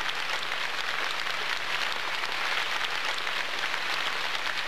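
An audience at a 2002 concert applauds, a steady, dense wash of clapping from many hands that carries on evenly without any voices.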